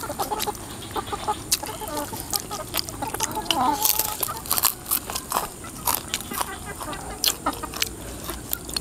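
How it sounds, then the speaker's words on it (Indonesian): A chicken clucks in short, scattered calls close by, set against quiet indoor background with faint crackling and crunching noises around it. "Ada ayam."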